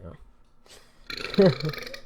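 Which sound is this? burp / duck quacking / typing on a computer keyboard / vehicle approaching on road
burp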